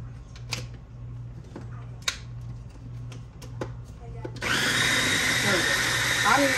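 A blender switches on and roars steadily while pureeing food into a fine red salsa, following quieter clicks and handling noises.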